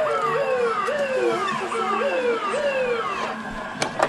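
A toy fire truck's wailing siren rises and falls in quick repeated cycles, close and steady, with a couple of sharp clicks at the end.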